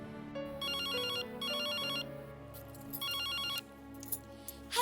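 A house telephone rings in three repeated electronic trilling bursts, each roughly two-thirds of a second long and separated by short gaps, moderately loud over a quiet background.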